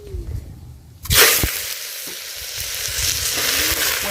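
Chunks of chayote drop into very hot oil in a village kitchen, setting off a sudden loud, close sizzle that holds as a steady crackling hiss, with a few clatters of stirring.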